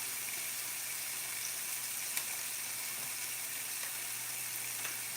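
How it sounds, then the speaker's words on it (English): Onions and peppers sizzling in a pan, a steady hissing fry that stays even and moderately loud throughout with only faint small pops. "we're gonna go ahead and put the onions and the peppers in here"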